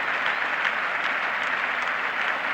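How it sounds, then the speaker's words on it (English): A cricket crowd and the England team applaud Viv Richards at The Oval during the 1976 England v West Indies Test. The clapping is dense and steady, fairly loud and continuous throughout. "Been applauded all the way in by the England team"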